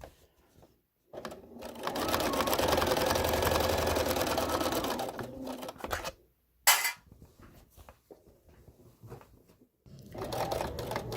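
A sewing machine stitches quilt binding in a fast, steady run of needle chatter lasting several seconds, then stops, followed by quieter handling and a shorter burst of stitching.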